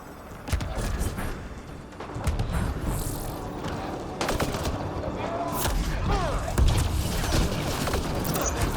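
Gunfire in the Mass Effect: Andromeda video game rattles continuously through a loud, busy combat mix, with bursts and impacts layered under voices talking.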